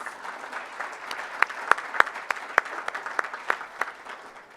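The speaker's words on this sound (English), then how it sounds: "Let's give those sponsors a great round of applause" Lunch crowd at a city leadership luncheon applauding event sponsors, a steady spread of clapping from many hands with crisp individual claps popping out, moderately close and easing off at the end.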